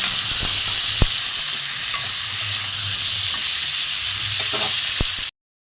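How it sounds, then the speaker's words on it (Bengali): Green peas being stir-fried in a pan for a cauliflower curry: steady close sizzling with scraping spatula strokes and a few sharp clinks against the pan, continuous until it cuts off abruptly. "এখানে মটরশুঁটিগুলো দিয়ে দেবো, দিয়ে ভালো করে কষিয়ে নেবো"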